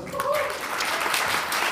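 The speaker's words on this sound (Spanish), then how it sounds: "Un aplauso para Cristo, hermano." A church congregation bursts into applause during a sermon. The clapping is dense and fills the short stretch, with a voice briefly audible near the start beneath it.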